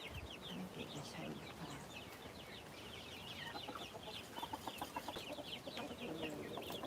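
Chickens cluck in a backyard pen, a busy chorus of short repeated calls at close range over steady outdoor background noise, with a rooster also present.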